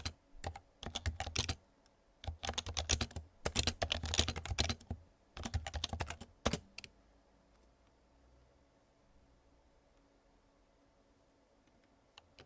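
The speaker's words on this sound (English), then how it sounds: "I would type an expression like this" Bursts of quick, close keystrokes on a computer keyboard as a Tcl search expression is typed, stopping after several seconds into near silence.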